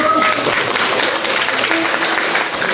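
Audience at a New Year's stage performance applauds, a dense, loud, steady clapping that fills the whole stretch without pause.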